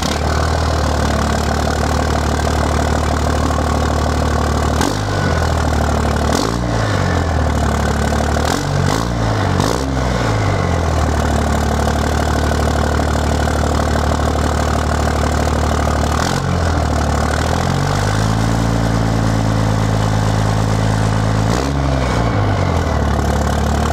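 A Ford King Ranch pickup with a 5-inch axle dump exhaust idles with a deep, steady rumble, broken by several sharp revs that rise and fall, the last one held longer before settling back to idle.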